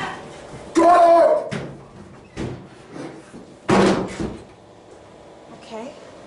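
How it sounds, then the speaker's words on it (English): Doors in an indoor hallway slam shut twice, loud sharp bangs with softer knocks and bumps between, while a person talks and exclaims over them. "Door!"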